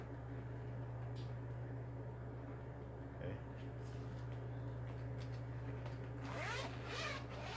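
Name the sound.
zipper on a card binder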